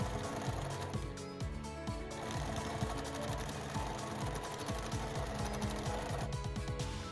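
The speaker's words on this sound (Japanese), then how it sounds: "裏で縫い代を倒していない方の際にミシンを入れます。" A sewing machine stitching a patchwork table runner, a continuous rapid mechanical chatter of the needle running at steady speed, close and moderately quiet with no talk.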